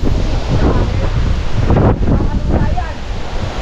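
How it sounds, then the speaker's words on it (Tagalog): Strong wind buffets the microphone outdoors, producing loud, continuous low rumbling and roaring gusts that swell and dip over a few seconds. "Lakas ng hangin eh."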